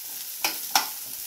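Bitter gourd fries in a pan on a low flame with a soft, faint background sizzle. Two short, sharp clicks or pops cut through it near the middle.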